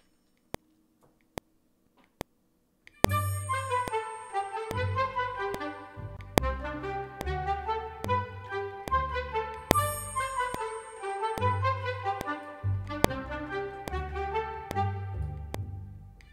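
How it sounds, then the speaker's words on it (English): Orchestral game music in a fantasy style with a gentle triangle, which opens with a few isolated metallic ticks before sustained bright ringing tones and accents repeat over steady orchestral chords, with no talking. "I like triangle better than chimes. It's a bit more gentle."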